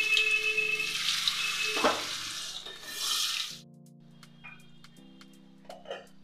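Parboiled diced potatoes hit a hot pan and fry with a steady, close sizzle and some stirring scrapes, then quieten to a low hum with scattered light clicks toward the end.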